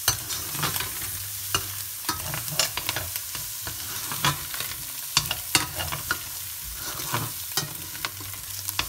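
Chinese-style fried rice (chofan) with cooked onion is stirred in a hot pan: repeated scraping spoon strokes and soft knocks ride over a continuous low sizzle, close and fairly quiet.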